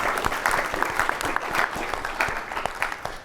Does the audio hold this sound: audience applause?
yes